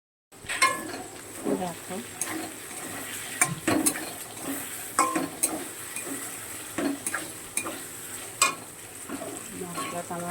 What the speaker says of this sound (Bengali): মশলাটা দিয়ে দিচ্ছি। মশলাটা একটু কষাবো